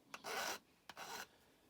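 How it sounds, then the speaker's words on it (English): A round saw file rasps on a tin whistle in two short, quiet strokes a little over half a second apart, each one a dry, scratchy scrape. "I'm going to tidy up with a saw file that's round in a mo"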